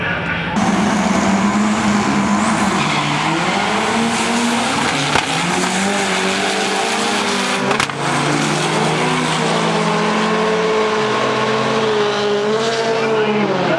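A 1956 VW Bug drag racing car brakes hard at the strip, tires squealing and skidding in long wavering screeches over a loud engine, heard close throughout.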